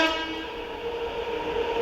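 Dharti Aaba Express train drawing near to overtake on the Indian railway line, a steady loud rumble with sustained tonal horn-like bands held throughout, no voices.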